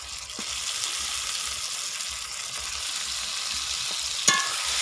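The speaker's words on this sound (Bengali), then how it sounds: "কষিয়ে তারপর আমি মাংসগুলো দিয়ে দিচ্ছি। এই যে মাংসগুলো আমি দিয়ে দিচ্ছি।" Meat added to spice masala frying in oil in a pan, giving a close, steady hissing sizzle with soft stirring scrapes and a sharp clatter near the end.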